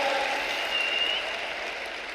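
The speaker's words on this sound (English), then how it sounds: "Let's give them a big, nice round of applause." Convention audience applauding home-office leadership, a steady wash of clapping that slowly fades, heard alone.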